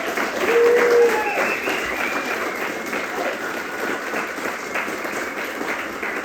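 A concert audience at the Parker Theater applauds the opening act at a show. The clapping is dense, loud and steady throughout, with a few voices mixed in.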